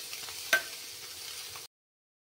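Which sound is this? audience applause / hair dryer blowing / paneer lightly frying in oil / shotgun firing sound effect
paneer lightly frying in oil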